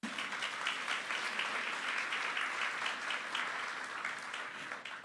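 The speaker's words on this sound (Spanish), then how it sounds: "Dese un aplauso a usted mismo" Church congregation clapping together during a sermon, a continuous, even wash of applause from many people at a moderate, distant level, with no voices over it.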